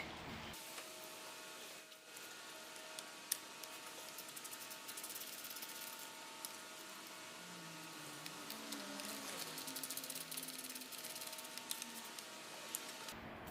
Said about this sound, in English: Using a Phillips screwdriver, remove the 3 screws holding the dash in place and unplug the dash from the bike.